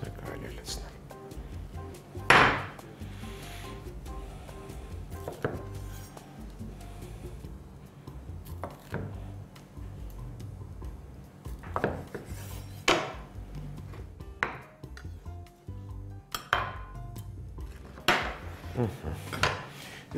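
A knife chops pineapple into chunky pieces on a board, with a handful of sharp, irregular knocks spread apart over a low, steady kitchen hum.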